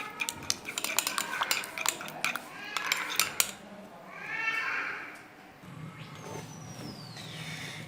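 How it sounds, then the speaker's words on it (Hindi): A spoon scraping and clinking against a bowl while homemade ginger night cream is mixed to a creamy texture, sharp taps clustering early, then softer stirring with faint background noise. "अब इनको अच्छी तरह से मिक्स कर लेंगे। हमने इसको इतना मिक्स करना है कि ये क्रीमी फॉर्म में आ जाए।"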